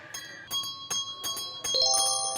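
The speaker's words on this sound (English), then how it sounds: "So now I'm going to ring this bell" Bakery counter bell struck repeatedly, bright metallic dings ringing out with sustained tones, several evenly spaced hits followed by overlapping rings, close and clear with no talking.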